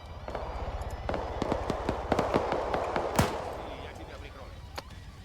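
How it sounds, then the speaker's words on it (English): Gunshots in a video game, scattered sharp cracks and pops at a distance over a rumbling background, irregular and fairly faint, with one louder shot standing out. "Hearing some shots. I think they're taking pot shots at these guys."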